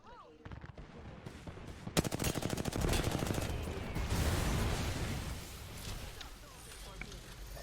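Rapid gunfire erupts in a video game as enemies shoot at the player, a dense burst of automatic shots followed by a sustained roar of explosive noise, loud and close.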